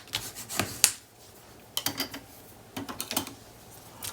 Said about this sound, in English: I'm going to burnish the tape